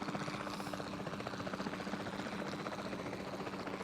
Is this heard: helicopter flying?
yes